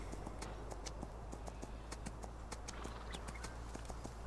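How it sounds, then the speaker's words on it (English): Cantering hoofbeats of a horse in the video game Farming Simulator 19, a quick steady clip-clop rhythm of light hoof strikes over a low background hum, faint overall. "we'll get him up into a canter right now."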